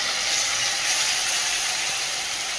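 Ginger-garlic paste sizzles and fries steadily in a small amount of oil for a special chicken dish, a constant broadband hiss with a faint crackle running unbroken from start to finish, with no talking.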